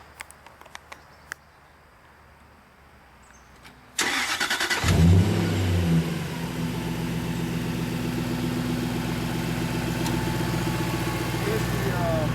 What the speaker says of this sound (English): Let me start up the engine so you guys know what I'm talking about.